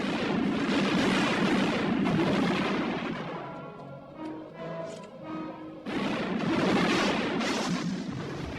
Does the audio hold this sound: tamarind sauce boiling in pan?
no